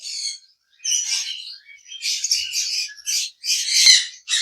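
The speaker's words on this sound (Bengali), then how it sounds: "সুপার কোয়ালিটি ইয়েলো কালার লাভবাদ পাখি" Yellow lovebirds chirp in a rapid series of shrill, high tweets and short squawks, bursting repeatedly across a few seconds with brief gaps, loud and close, with no voices.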